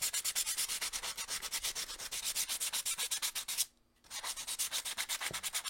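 Rapid, rhythmic back-and-forth strokes of 150 grit sandpaper rasp close and loud, broken by one brief pause partway through before the strokes resume.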